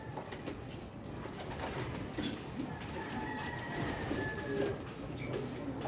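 Racing pigeons cooing softly amid a steady wash of outdoor background noise, with rumbling ambience underneath throughout.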